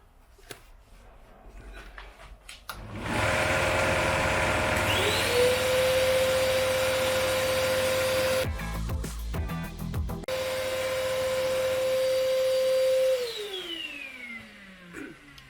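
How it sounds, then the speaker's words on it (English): A lathe spins a pen blank, whirring steadily with a rising hum and constant high whine, a rough sanding rasp over it, then the motor winds down. "Now I've paused the sanding."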